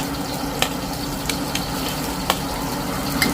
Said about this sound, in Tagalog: Lagyan po natin ng konting mantika. Ito, lagyan po natin ng sibuyas at kamatis.